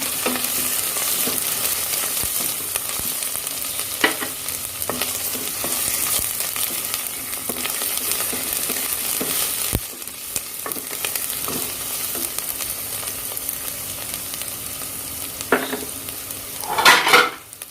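Ginger and garlic fry in oil in a pot for Buhari rice, giving a dense, steady sizzle broken by light stirring clinks and a louder scrape of the spoon near the end; nobody speaks.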